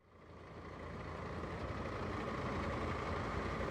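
A bus engine in India runs steadily, a continuous low rumble that swells slightly at the start and then holds loud and even throughout, with no voices.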